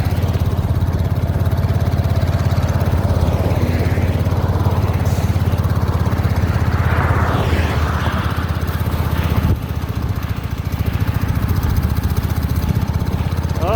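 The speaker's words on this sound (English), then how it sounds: "going back onto the engine power as we're cresting the hill" A small motor on a pedal bicycle towing a push trailer drones steadily at speed along the road, a continuous buzzing mid-pitched engine note with wind rush, briefly easing near the crest of a hill.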